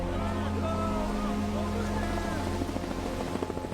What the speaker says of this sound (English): The Coast Guard helicopter battles for an hour trying to rescue them before accepting defeat.